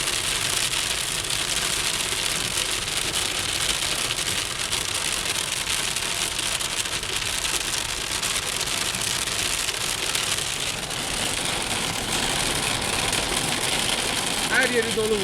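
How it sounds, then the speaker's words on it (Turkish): Dense, constant pattering of heavy hail drums on the roof of a 2000 Renault Clio for the whole stretch, with its low engine idling beneath. "Doludan göz gözü görmüyor."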